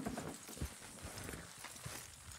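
Horses in Red Dead Redemption 2 trot with an uneven clip-clop rhythm, fairly quiet, with a low rumble beneath.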